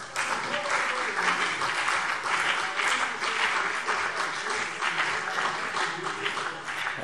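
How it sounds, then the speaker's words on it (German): Sustained applause in a German state parliament plenary session, a dense continuous wash of many hands clapping at a steady, moderately loud level, with a few faint voices beneath it. "Applaus"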